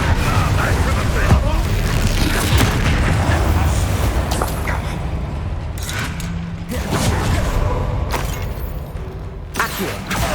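Spell blasts in the Hogwarts Legacy video game, a dense run of booming impacts and crackling bursts layered over continuous game music and effects, with a voice calling out spell names throughout.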